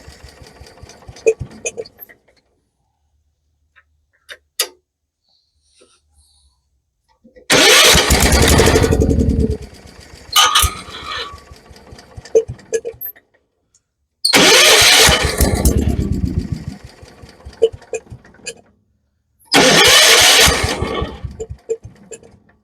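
A Kohler K301 engine on a 1976 Vermeer LS200 log splitter cranks in three loud, separate bursts of about two seconds each, sputtering without catching, with quiet pauses between the attempts and brief handling noises.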